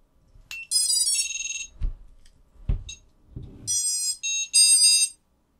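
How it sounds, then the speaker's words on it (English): An Armattan quadcopter sounds bursts of high electronic beeping tones as its battery is plugged in, close and loud, with a few soft clicks and thumps between the beep sequences. "Now that beeping that you just heard is the sound of a happy quadcopter."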